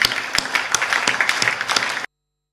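A crowd claps in dense, steady applause for about two seconds, loud and close, then it cuts off abruptly into silence.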